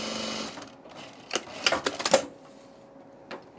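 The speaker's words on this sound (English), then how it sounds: "Ooh, we're sewing." A sewing machine stitching the binding of a vinyl flat pocket on a tool case runs in short, close mechanical bursts, rattling and clunking, then goes quiet except for a faint hum and a last tap.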